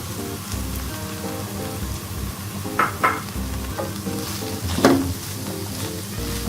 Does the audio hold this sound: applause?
no